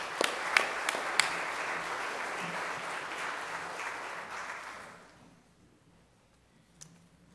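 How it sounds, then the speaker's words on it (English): Church congregation applauding during a Sunday worship service, a steady wash of clapping from a crowd that holds for about five seconds before fading out, with a few sharper claps near the start and a lone tap near the end. "can we just thank God, you know, as I leave with some applause for all those who serve"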